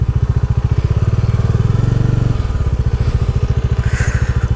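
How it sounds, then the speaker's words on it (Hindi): A motorcycle engine runs close and loud with a steady pulsing thrum while riding a rough off-road forest track, the revs shifting partway through. "वो है चेतन बाइकर आ रहा है मुझे हेल्प करने के लिए"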